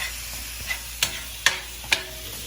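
Bacon frying in a pan, a constant close sizzle punctuated by four sharp scraping stirs at roughly half-second intervals, with no voices.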